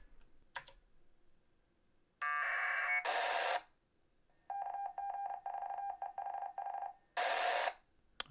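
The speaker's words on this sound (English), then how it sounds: "we should hear the data packet go out, and then we should hear the Morse code go out" A homebuilt APRS digipeater transmits over radio: a harsh burst of data-packet tones, then a steady run of keyed Morse code beeps, followed by one more short data burst, loud and clean with no talking.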